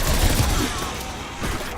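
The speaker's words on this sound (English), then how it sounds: "just shoot their arm cannon, and then they blow up" Gunfire in a zombie shooter video game, a dense burst of shots in the first half followed by a quieter stretch and another short burst near the end, loud and close.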